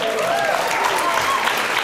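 A concert audience applauds steadily through the whole stretch, a dense, even wash of clapping with a voice faintly present over it.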